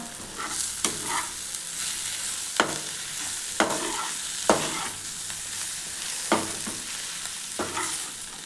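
Okra stir-fry with masala is stirred in a hot pan, a continuous close sizzle punctuated by sharp, regular spatula scrapes and knocks roughly every second, with no talking.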